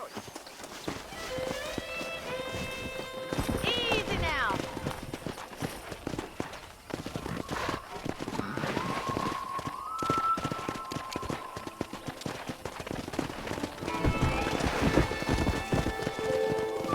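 Wild horses in the video game Red Dead Redemption gallop in a steady clip-clop run, whinnying, with a brief spoken line over the top, all against a busy outdoor background.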